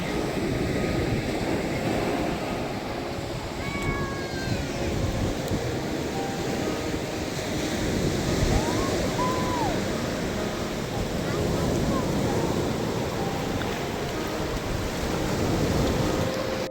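Sea waves washing onto a beach where children play in the water, a continuous rushing surf with wind noise on the microphone throughout.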